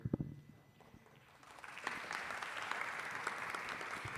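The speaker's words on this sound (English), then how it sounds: "Let's clap for all the wonderful panelists that we had today." An audience at an international youth biodiversity conference in Yokohama claps for the panelists, steady moderate applause building after a brief pause and continuing to the end.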